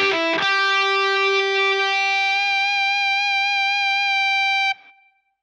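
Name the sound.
Digitech Freqout pedal synthesized feedback on guitar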